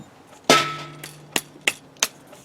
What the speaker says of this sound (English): we're hammering that pin into the wood on the other side